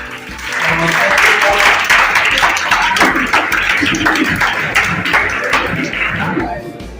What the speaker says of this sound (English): have a big round of applause for Tensi